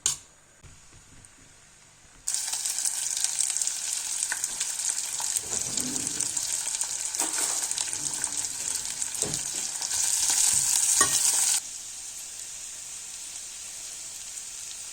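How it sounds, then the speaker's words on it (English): Onions frying in palm oil for eru in a pot, a steady bright sizzle that starts abruptly after a quiet moment, loud and continuous with scattered crackles, then settles slightly softer toward the end. "A scoop of palm oil, which I'm gonna put in another pot and fry my onions in."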